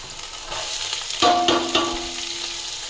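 Cabbage tossed into a hot garlic and chili tempering for noodles, with a steady sizzle of frying and a sudden louder burst as the vegetables hit the oil, followed by stirring scrapes.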